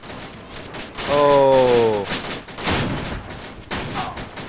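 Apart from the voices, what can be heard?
heavy gunfire in ArmA 2 Operation Arrowhead video game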